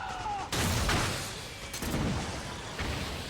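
A vehicle blown up in the video game Metal Gear Solid 4, a sudden heavy boom followed by rumbling debris and a second burst, loud and close with a long fading roar.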